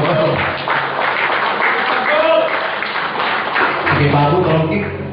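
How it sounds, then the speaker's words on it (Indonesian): An audience at a training session claps in a sustained burst of applause that continues throughout, with voices and crowd noise mixed in underneath. "Tepuk tangan bagi anda semuanya"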